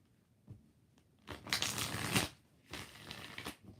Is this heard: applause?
no